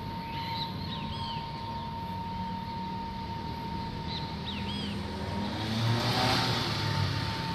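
A car passes along a street in Votuporanga, its engine and tyre noise swelling toward the end over a constant low hum and a steady tone, with a few bird chirps in the background.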